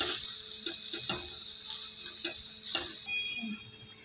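A spoon stirs vegetable fried rice seasoned with black pepper in a hot pan, giving steady sizzling with a few sharp scraping knocks against the metal, then a quieter tail.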